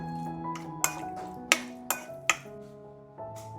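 A spoon clinks against a bowl while chicken is stirred into a marinade of oyster sauce, sesame oil and oil, with several sharp metallic taps over soft, wet mixing sounds.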